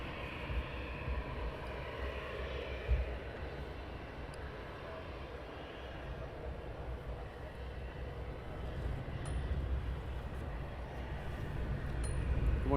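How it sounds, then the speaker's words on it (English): An EasyJet airliner taxis at Luton Airport in the early morning, a steady distant engine rumble and whine that grows slightly louder toward the end, with faint clinks now and then. "Over EasyJet taxiing down."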